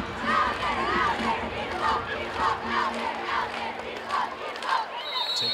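A packed arena of basketball fans at a high school boys' championship semifinal roars continuously, a dense wash of cheering and shouting that swells and dips without pause.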